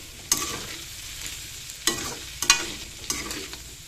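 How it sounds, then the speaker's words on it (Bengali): Potatoes fry in a pan with a soft continuous sizzle, broken by a few sharp scrapes and clinks as a utensil stirs them. The sound is close and moderately quiet, with no talking. "আলু ভাজাও বসিয়ে দিয়েছি"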